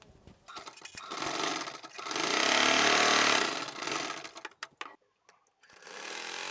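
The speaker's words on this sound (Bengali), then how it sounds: "তো আমরা এখন সেলাইটা শুরু করি" A domestic sewing machine stitches cotton fabric for a homemade bra, running in loud steady bursts with brief stops and restarts, the motor whirring close by with no talk.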